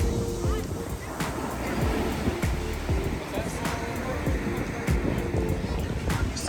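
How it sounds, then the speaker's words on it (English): Waves break on a beach in a continuous rushing wash, with heavy wind noise across the microphone and some voices mixed in. "Some good waves down there."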